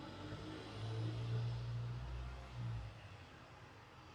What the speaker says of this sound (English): we have some kind of a truck coming by